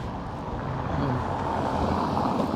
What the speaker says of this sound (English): So there is quite a steady stream, and it's a noisy stream of traffic.